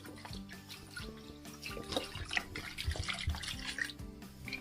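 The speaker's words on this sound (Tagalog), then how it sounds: "At lagyan natin ng tubig na malamig." Cold water runs from a tap into a bowl of cooked mussels, a steady splashing and gurgling pour with small clinks, moderately close and fairly quiet.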